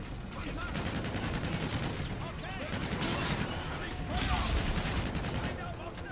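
Dense rapid gunfire from a Call of Duty Infinite Warfare match, with sustained automatic bursts and overlapping shots loud throughout, and a voice talking underneath.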